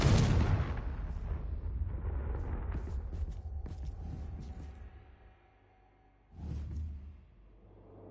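A Confringo fire spell in Hogwarts Legacy erupts in a loud, close fiery blast that rumbles and fades over several seconds, then a second, smaller burst flares up near the end.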